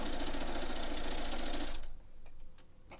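A sewing machine runs fast and steady while stitching a quilt block for a pixelated Halloween quilt, then stops abruptly near the end, leaving faint handling noises and small clicks.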